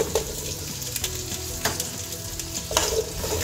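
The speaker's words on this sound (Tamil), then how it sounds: "வெங்காயம் தேங்காய் நல்லா வதங்கியிருக்கு" Small shallots and coconut sautéing in a pan for fish head curry, a loud continuous sizzle with rhythmic scraping strokes of a stirring spoon, close up and without voices.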